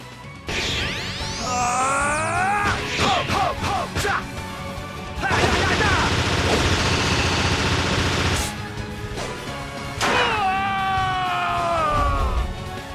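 Simon Belmont's whip hyper attack in Castlevania Judgment, a loud run of crashing whip strikes and impacts with swooping magical tones, shouts and grunts, and a broad roaring burst in the middle.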